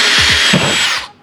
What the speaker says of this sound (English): Now we're going to start drilling the bigger hole so the bolt fits through.